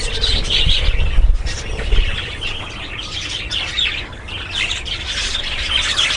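A colony of pet budgerigars kept in breeding pots chirps and squawks continuously, with many overlapping bright calls close by over a constant rustling background.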